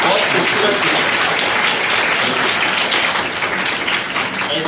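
A school audience gives loud, sustained applause for the art teacher, thick continuous clapping that eases off slightly near the end.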